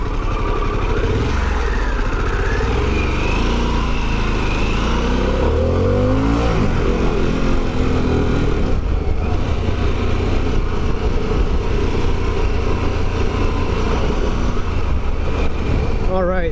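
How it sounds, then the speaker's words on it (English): A Harley-Davidson Pan America motorcycle engine rumbles and revs under way while riding, a steady rough drone with rising pitch sweeps, loud and close, with someone talking over it at times. "the engine seems so raw and unrefined"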